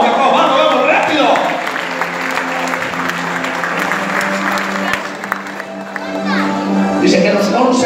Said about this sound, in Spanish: dale fuerte aplauso a Jacob